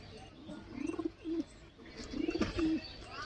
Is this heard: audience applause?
no